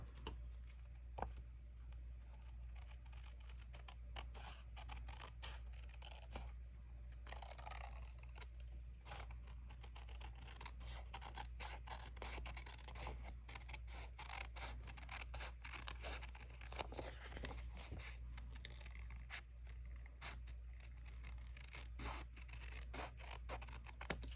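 Paper trimmed off a handmade accordion fold card with scissors or a trimmer, faint close snips and scratchy cuts repeating over a steady low hum, no voices.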